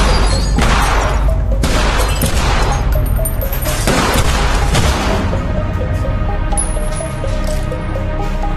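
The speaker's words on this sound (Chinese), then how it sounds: "紧接着阿强带来的杀手就全部被射杀。" Film shootout in a street-corner restaurant where hired killers are gunned down: a loud, dense burst of rapid gunfire and booming impacts for several seconds, then a lingering ringing tail.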